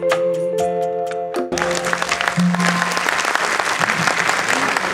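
Audience applause for a saxophone player after a song, bursting in loudly as the final sustained notes end and continuing as dense, close clapping.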